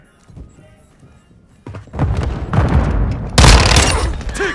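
A grenade blast in Call of Duty: Modern Warfare II, preceded by light thuds and scuffling, then a sharp loud boom at about two seconds and a second heavier explosion with rumbling debris near the end.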